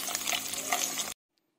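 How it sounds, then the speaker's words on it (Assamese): Eggs frying in hot oil for an egg curry give a steady, close, loud sizzle with crackling bursts. The sizzle cuts off abruptly, leaving near silence. "এইফালে ডিমখিনি ভাজি হোৱাৰ পিছতে মই কাঢ়ি ল'ম"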